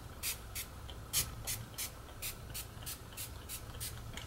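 NYX Matte Finish setting spray misted from a pump bottle during a makeup routine: about a dozen short, evenly spaced hissing spritzes, close and clear, with no talking.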